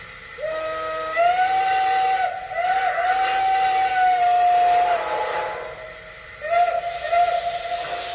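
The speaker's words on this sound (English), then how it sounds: "you also have a Pennsylvania hooter whistles that sounds like this." A Pennsylvania hooter steam whistle on a Lionel Legacy Santa Fe L1 Mikado brass model locomotive gives a hissy, hooting wail, sounded in several blasts of varying length with a short gap before a final toot, close and loud.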